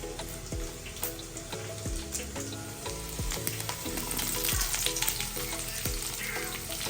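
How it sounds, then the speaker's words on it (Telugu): Garlic and green chillies fry in a pan with a loud, crackling sizzle that thickens over the clip, while faint rhythmic metallic taps sound beneath it, with no talking. "వెల్లుల్లిపాయ వేసుకుంటున్నాం. కొంచెం ఫ్రై అవ్వాలి."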